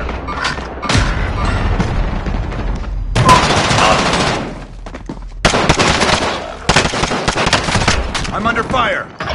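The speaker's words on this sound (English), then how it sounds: "I'm under fire!" Dense bursts of close gunfire and heavy booming shots fill a Call of Duty: Warzone match, coming in loud clusters with short gaps while a player talks over it.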